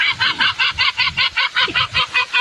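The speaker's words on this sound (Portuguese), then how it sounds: "uma gaivota que está por perto acompanhando toda a cena e já parecia bem ouriçada, solta um som que para quem assiste parece muito uma risada" A seagull on a beach lets out a rapid, evenly spaced run of about a dozen loud, nasal honking calls that sound like laughter, close by with nothing else around it.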